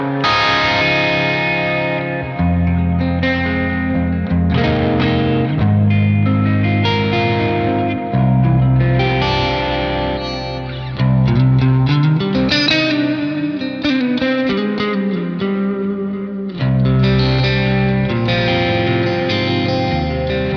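Electric guitar through a crunch amp tone on the clean amp of Archetype Plini, playing a full-band original song with picked patterns; driven chords and melodic lines ring steadily with some echo and chorus shimmer, loud and continuous throughout.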